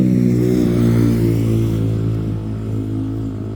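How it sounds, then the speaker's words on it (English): A loud motorbike passes behind the scene at Coney Beach in Porthcawl. Its steady droning engine note dominates, then gradually fades over the last seconds, with no voices. "Sorry about the loud motorbike there in the background."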